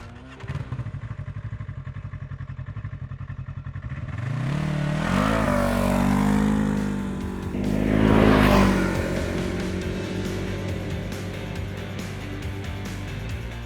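A Segway AT10 1000cc ATV quad idles low, then its engine revs up and pulls away at about four seconds, climbing through a loud surge near eight seconds before settling into a steady ride, close and alone.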